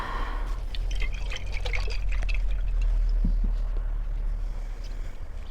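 Cloudy limewater made with slaked lime is poured into a container for preserving fresh chicken eggs, giving a steady, close liquid rush with light splashes and drips over a low rumble.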